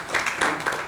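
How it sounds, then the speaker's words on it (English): A brief burst of audience clapping for Dr. Naresh at a retina continuing medical education meeting, dense and moderately loud throughout. "put a big round of applause for Dr. Naresh"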